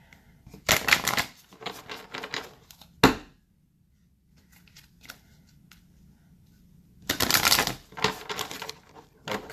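A Sacred Geometry card deck being shuffled by hand, close and crisp, in two riffling bursts separated by a few seconds of near quiet, with a sharp tap between them.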